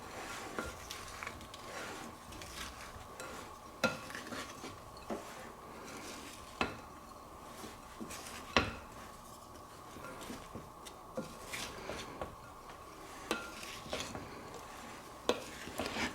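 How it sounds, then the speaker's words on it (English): A spoon scrapes and clinks around a pan as herbs are stirred into onion and celery for stuffing, soft irregular knocks and scrapes over a low sizzle, fairly quiet and close. "I'm just going to give it a good stir"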